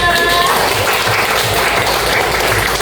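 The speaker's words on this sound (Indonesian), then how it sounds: "kasih tepuk tangan" Students in a classroom applauding together, a loud, dense burst of clapping that holds steady, with a few voices mixed in near the start.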